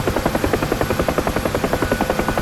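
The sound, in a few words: UH-1H Huey helicopter flying in DCS video game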